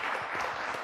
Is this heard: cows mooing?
no